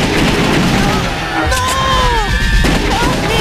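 Dense, loud gunfire from the arcade shooting game House of the Dead 2 blends with ringing game tones and effects, while a player's voice talks over it.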